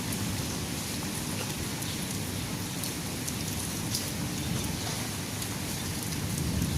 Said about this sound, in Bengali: এই দেখো আকাশের অবস্থা, ঝুমঝুম ঝিরিঝিরি বৃষ্টি হচ্ছে।